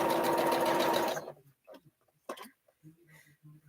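A sewing machine runs in a loud, fast, steady whir while stitching fabric, then stops after about a second, leaving faint clicks and soft handling noises, with a voice talking quietly afterward.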